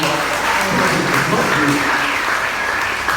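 A church congregation breaks into dense, sustained applause that carries steadily throughout, with voices and some singing or shouting mixed into the crowd noise.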